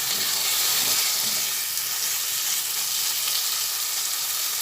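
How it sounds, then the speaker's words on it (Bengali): Spices with turmeric and Kashmiri chilli powder sautéing in a pan for an egg-and-lentil fritter curry, giving a steady, loud, close sizzling hiss throughout. "এক চামচ হলুদ দিলাম এক চামচ কাশ্মীরি লঙ্কার গুঁড়ো দিলাম সব দিয়ে পরে ভালোভাবে কষিয়ে নিচ্ছি"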